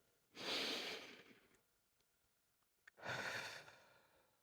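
Two deep breaths, close and clear, each a long airy rush lasting about a second, separated by a quiet pause with a faint sniff, during a guided EFT relaxation exercise.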